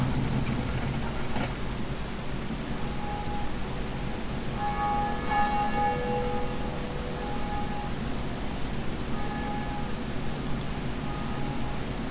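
Bell of Awakening ringing in Dark Souls, clear metallic tones sounding in two spaced groups over a constant rain-like wash of background noise, no voices.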